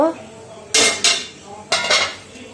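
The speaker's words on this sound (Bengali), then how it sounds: "আমার এটা হয়ে গেছে, এবার ঢাকনাটা খুলে নেব।" A metal lid comes off a pan of cooking chicken pizza with two close pairs of sharp clanks and rattles, each followed by a short ringing tail.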